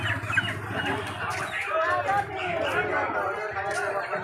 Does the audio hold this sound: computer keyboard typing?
no